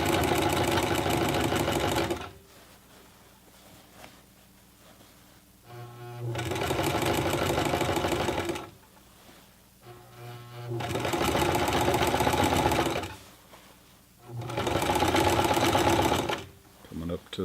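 Sears Kenmore 12781 sewing machine stitching through denim and leather in four loud bursts of rapid, steady whirring, separated by quieter pauses in which someone talks.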